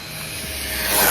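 A 1/10 scale RC speedrun truck with a stock motor and budget ESC on a 4S shakedown run gives a steady, hissy whine that climbs and grows louder toward the end, with no talking over it.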